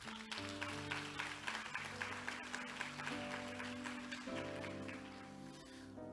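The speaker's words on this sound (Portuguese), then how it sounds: "Aplauda a palavra de Deus." A church congregation applauds during a sermon on Romans 8. Steady, fairly soft clapping runs under sustained keyboard or organ chords, then thins as the music carries on.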